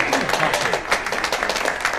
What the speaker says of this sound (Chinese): 此处应该有掌声来